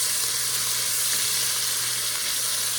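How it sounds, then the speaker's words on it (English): Sliced carrots and diced onion sizzle loudly and continuously in a hot pot, a dense, steady hiss with no pauses. "Ooh, listen to that sizzle."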